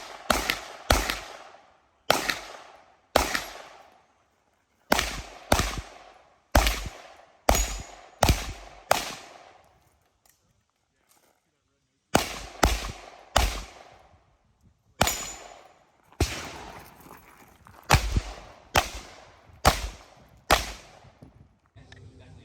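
Pistol gunshots crack out in quick bursts of two to four at a 2-gun shooting competition, loud and sharp, with a brief quiet gap in the middle before the shooting resumes.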